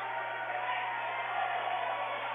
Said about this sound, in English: you can kind of hear the crowd reacting to that